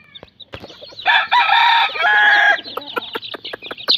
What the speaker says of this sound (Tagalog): Ayan ang ating mga sisiw mga kaibigan.